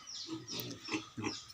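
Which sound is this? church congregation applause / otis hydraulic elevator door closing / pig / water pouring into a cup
pig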